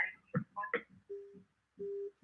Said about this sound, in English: That's the second time the phone call drops.